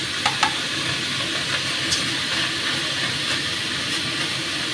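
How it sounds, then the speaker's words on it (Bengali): Chopped pineapple sizzles and hisses in a hot, dry wok, a dense and continuous frying roar with a few light stirring ticks. "সেই রকম শুকনো কড়াইতে এটা ঢেলে দেবো স্মোকি একটা ফ্লেভারের জন্য"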